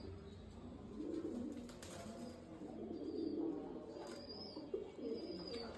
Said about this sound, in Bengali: এখানে আমাদের কিছু সিলভার কবুতর আছে